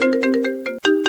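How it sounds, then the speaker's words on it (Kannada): A phone ringtone for an incoming call plays alone, a bright electronic melody in rapid repeated pulses over a sustained tone, loud and close, with a brief break before the tune resumes. "ಯಾವ್ದೊಂದು ಫೋನ್ ಬಂತೀಗ ಹಾಯ್."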